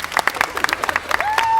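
Brief burst of crowd clapping and cheering at a film festival green carpet, dense and fairly close, with voices mixed in and a whistle-like tone rising near the end.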